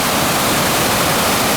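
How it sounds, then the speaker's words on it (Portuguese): Cachoeira do Paraíso waterfall in Boa Família, Minas Gerais, roars as a loud, dense, unbroken rush of falling water heard close up. "Olha, Cachoeira do Paraíso."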